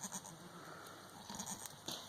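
Goats bleat in short, nasal cries, several calls overlapping close by against a quiet background, with a sharper cry near the end.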